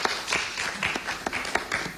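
Audience applause at an Italian televised debate, a short burst of scattered, uneven hand clapping from a small group, moderately loud with no voices over it.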